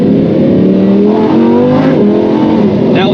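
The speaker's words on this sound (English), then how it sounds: "you can just hear that we have like a little bit of wheel spin, and the sound of that loss of traction combined with that V10" A Lamborghini Huracan V10 roars loudly as its wheels spin and lose traction, the engine note climbing and wavering while tire noise mixes in, close and continuous with no talk.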